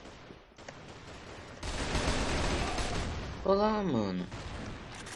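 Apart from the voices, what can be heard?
gunfire from the video game Crossfire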